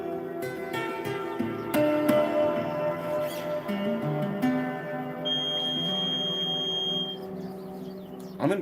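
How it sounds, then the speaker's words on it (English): A smoke detector, likely set off by cooking smoke, sounds a steady high-pitched electronic tone for a couple of seconds over ongoing improvised instrument playing that fills the room. "Smoke detector's going off."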